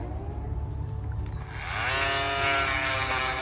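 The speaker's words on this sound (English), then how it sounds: "I am sanding the case to make the polish stick better to it." A steady, whining mechanical buzz with rising harmonic tones, loud and continuous, as a phone case is sanded.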